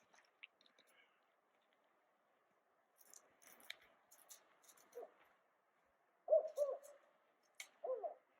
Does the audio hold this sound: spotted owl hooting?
yes